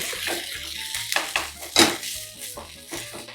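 Ginger garlic paste cooking in a pan, with clinks and scrapes of a utensil against the metal over a soft sizzle, close by, with brief faint sounds of people in the background.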